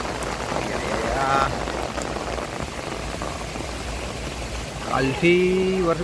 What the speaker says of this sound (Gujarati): કાલે સાંજેનો વરસાદ ચાલુ છે કન્ટિન્યુ